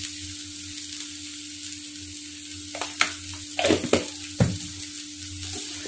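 Ginger garlic paste sizzling in a hot pan for a Kerala egg cutlet, a steady frying hiss with a few stirring scrapes and clinks near the end.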